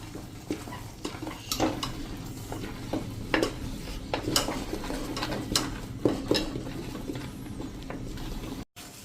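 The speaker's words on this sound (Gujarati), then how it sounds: "અને એને આપણે મિક્સ કરી લેશું" A spoon stirring a thick caramel coconut chocolate barfi mixture in a pan, with a run of irregular scraping taps and clinks against the metal over a low background hum.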